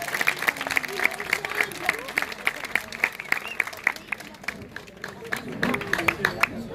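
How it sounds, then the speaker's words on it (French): Applause at a singing contest in Surgères, fairly sparse and moderately quiet clapping with distinct individual claps, a few voices murmuring beneath it. "Allez, on applaudit bien fort, Émile."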